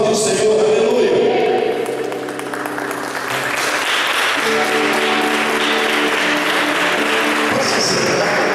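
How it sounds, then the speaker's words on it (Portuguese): Church congregation applauding at a Portuguese-language worship service, steady dense clapping throughout mixed with voices and music-like tones, loud and close. "Vamos aplaudir o Senhor, aleluia."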